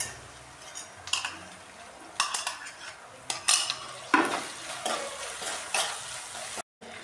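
Fried idli pieces being mixed with sauce, spoon clinking and scraping against a metal bowl in several sharp bursts with quieter scraping between, close and fairly loud, no talk.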